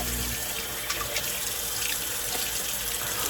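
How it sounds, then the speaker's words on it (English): Cold water runs steadily from a tap into a sink for a shave, a continuous close hiss and splash with no talking. "I do have the cold water on for a cold water shave"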